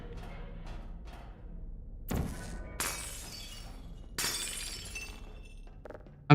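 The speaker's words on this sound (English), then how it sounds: "Breaking this tube gives players a chance to test out their newly trained rocket redirecting and glass breaking skills" In the video game Portal, a glass tube breaks: a thud and sharp shatter, then two more bright crashes of glass with tinkling debris, over a quiet background.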